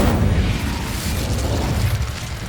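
A fiery Incendio spell cast in the Hogwarts Legacy video game, heard as a loud, sustained whooshing burst of flame and crackle lasting a couple of seconds, close and dense, with no talking.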